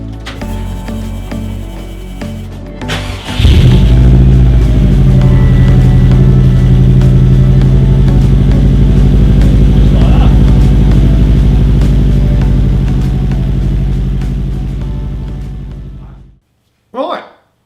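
A Subaru Impreza WR1 WRX STI engine starts up loud and close, then idles steadily and evenly for over ten seconds before shutting off, with a short bump of noise after the silence.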